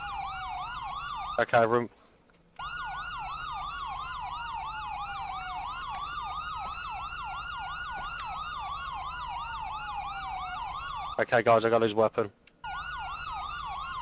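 Wailing police siren from a GTA 5 police car sweeps up and down continuously and loudly, briefly cut off twice by bursts of noise, with someone talking over it.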